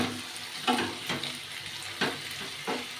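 Prawns coated in a white mustard and green chilli paste sautéing in a pan with little oil for a taro dish: a soft sizzle punctuated by about four sharp spatula scrapes at a slow, even pace.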